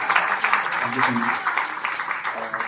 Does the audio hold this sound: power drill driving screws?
no